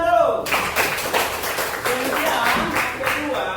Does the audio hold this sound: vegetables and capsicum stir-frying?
no